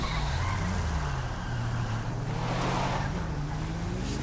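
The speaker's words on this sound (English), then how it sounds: "Listen to the car. Sounds like a muscle car." Muscle car engine in GTA 5, a low steady drone with shifting pitch held throughout, loud and continuous under wind-like road noise with no talking.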